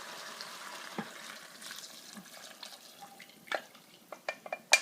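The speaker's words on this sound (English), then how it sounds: "Now you're just going to add the vegetable stock." Vegetable stock is poured into a slow cooker, producing faint liquid trickling with scattered splashes and drips that grow more distinct toward the end, with no talking.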